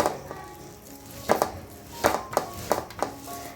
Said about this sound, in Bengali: আজকে আমাদের তালগুলো সব ছড়ে নিচ্ছে যাতে শাঁসটা বের করে রাখে